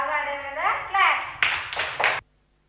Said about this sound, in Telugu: బాగా ఆడారు కదా, క్లాప్స్.